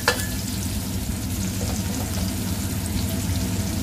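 Salted fish frying in hot oil: a loud, dense, continuous crackle and sizzle, close by and steady throughout, with a brief clink at the start.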